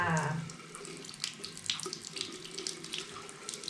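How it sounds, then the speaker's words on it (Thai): Water runs from a household tap during a child's teeth brushing, a steady splashing stream that drops slightly after a louder opening, with small clinks and no voices. "เปิดน้ำได้ไหมมาแล้วแม่เปิดให้อ่า"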